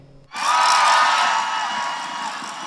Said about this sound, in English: Thousands of people gathered under the Space Needle today, taking part in a nationwide No Kings protest against President Trump